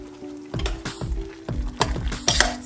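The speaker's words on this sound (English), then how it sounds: "And stir it around a little bit." Vegan soup with salt and pepper sizzling in a pot while being stirred, a series of sharp scraping strokes and clicks against a steady frying hiss, close and fairly loud with no talking.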